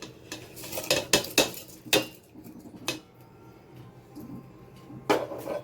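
Rice is added to a pot of date-jaggery payesh with a series of close metallic clinks and scrapes of a spoon against the pot, sharp bursts separated by quieter pauses, with no talking.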